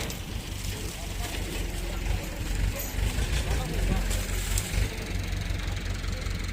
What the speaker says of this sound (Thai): ได้ยินเสียงรถไถแล้วร้องเลย